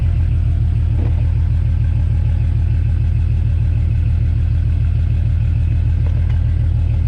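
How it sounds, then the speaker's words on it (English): A Lexus IS300 car engine idles steadily and close by, a smooth, even low rumble with a regular pulsing beat that holds for about seven seconds with no talking. "Yeah, it's idling right now."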